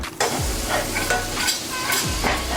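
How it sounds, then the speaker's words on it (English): Butter melting and sizzling in a hot pan while being stirred around, a steady crackling fry with repeated scraping strokes of the utensil across the pan, close and fairly loud. "Let's get that butter nice and melted, move it around"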